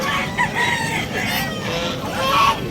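Chickens and roosters at a pet market in Bulacan, a rooster crowing and hens clucking close by over a busy, continuous market din, with no one talking.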